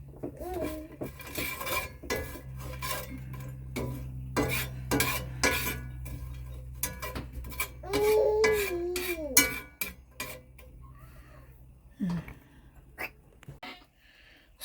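Vegetables being sautéed in a pan in a tiny-home kitchen, with repeated scraping and clinking of a utensil against the pan in an uneven rhythm, close and moderately loud, fading toward a quieter stretch at the end.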